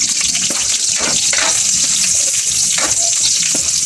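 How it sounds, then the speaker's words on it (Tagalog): Onions and garlic sautéing in hot oil for chicken curry, a loud continuous sizzle and hiss close by, with occasional stirring scrapes. "Lagay na natin ang sibuyas ng kasabay nito."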